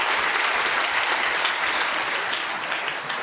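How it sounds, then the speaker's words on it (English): A crowd claps in sustained, steady applause, dense and even throughout. "Big round of applause for Louise Kenny."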